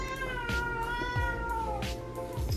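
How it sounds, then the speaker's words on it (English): A cat meows repeatedly at Halloween during pumpkin carving, a drawn-out wavering cry with several pulses close to the microphone, moderately loud, with low thumps beneath and no talking. "Do you hear those meows?"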